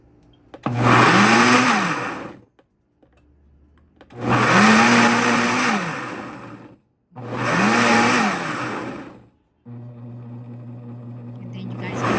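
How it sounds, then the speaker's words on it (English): An electric blender purees sofrito ingredients, including leafy herbs, in three loud whirring bursts separated by pauses, then a lower steady hum; a voice speaks between the runs. "So I'm gonna start blending everything."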